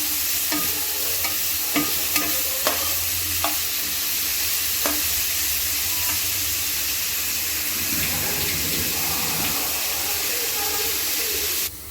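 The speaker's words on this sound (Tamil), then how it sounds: "வெங்காயம் நல்லா சீக்கிரமாக வதங்கிறதுக்கு லேசாக உப்பு சேர்த்துக்கிறோம் அதே சேர்த்து நல்லா வதக்கணும்" Onions sautéing with a little salt in a pan for a country rooster curry, a steady close sizzle and hiss broken by the scrape and clack of stirring, with no talk.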